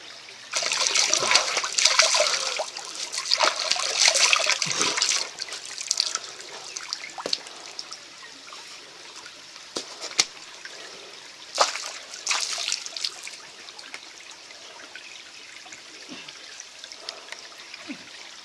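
Fresh water trickles and babbles in a small stream beside dense jungle, a close, fairly quiet flow with brief splashy bursts that fade toward the end.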